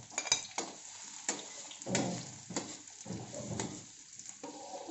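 Garlic and onion sautéing in a pan for spaghetti, with a soft steady sizzle broken by repeated clinks and scrapes of a utensil stirring against the pan, fairly quiet and with no talking.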